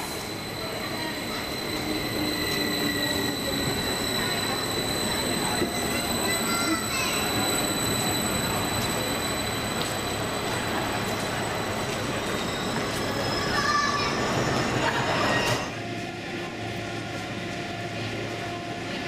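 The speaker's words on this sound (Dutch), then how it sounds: "En daar komt onze Stadler Kist binnen van de Westbahn, zesdelige treincellen" A six-car Westbahn Stadler double-deck train arrives at a station, wheels squealing with high sustained tones over a loud rolling rumble that eases as it stops.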